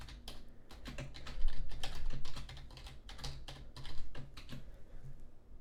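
Quick clicking keystrokes on a computer keyboard, a fairly close, quiet series of light taps in irregular bursts with short pauses, heard alone.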